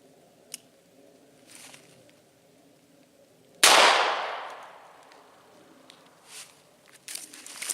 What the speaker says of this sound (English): we're going to be shooting a 38 with a 38 special